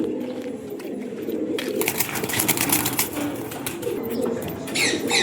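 Pigeons at a home loft cooing in low, rolling murmurs, close and continuous, with bursts of wing flapping and rustling over the top.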